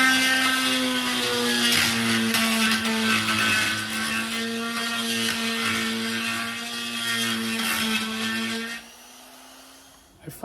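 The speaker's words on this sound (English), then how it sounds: "Go for the big rotary tool" A big rotary tool cuts into the body of a VW Beetle with a loud, steady high whine and gritty grinding, then spins down and stops near the end.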